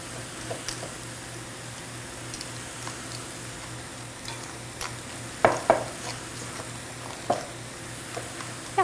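A cottage cheese mixture is beaten with two fanned-out forks in a bowl, making soft, continuous stirring and scraping with occasional sharper clicks of the metal tines. The sound is close and moderately quiet over a steady background hum.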